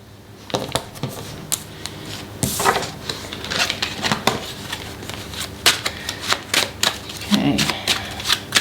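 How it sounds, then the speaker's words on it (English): A tarot deck is shuffled by hand in a series of crisp riffling and slapping bursts, close and fairly loud, with short pauses between handfuls and occasional soft knocks of cards being squared. "I'm going to shuffle these because I just forgot to shuffle them."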